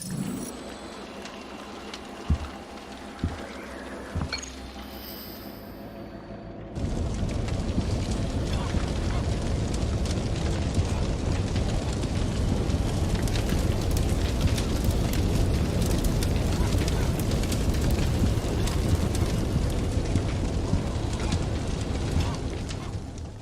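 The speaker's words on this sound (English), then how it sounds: "Let's take a look at what happens when the fire breaks out now." A fire breaking out in a house in the video game Eternal Threads: after a few seconds of quiet room tone with soft knocks, a loud, dense roaring rush of flames starts abruptly and holds steady throughout.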